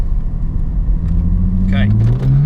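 A Golf R with an Akrapovic exhaust is floored with the windows closed, its engine and exhaust drone rising steadily in pitch as it accelerates hard. The sound is loud and continuous from inside the car.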